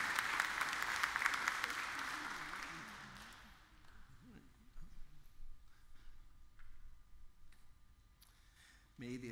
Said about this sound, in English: They're all clapping for you.